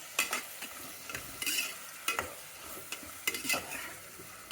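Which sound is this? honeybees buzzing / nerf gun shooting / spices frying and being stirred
spices frying and being stirred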